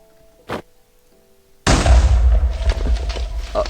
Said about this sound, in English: Oh, just a normal grenade.